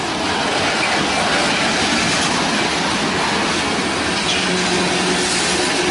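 An EMD diesel locomotive hauls a train slowly up Oak Mountain near Birmingham, Alabama, giving a loud, continuous rumble with rolling wheel noise and a faint squeal. No voices are heard.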